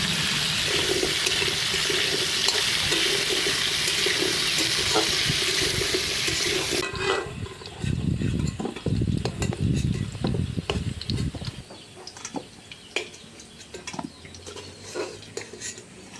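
Potatoes sizzle in hot oil with salt while cooking a pointed gourd and egg dish, a loud, steady broadband hiss for several seconds that then drops to a quieter crackle with a few clinks of utensils.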